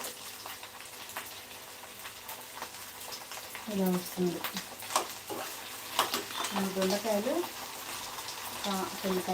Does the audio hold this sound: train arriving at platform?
no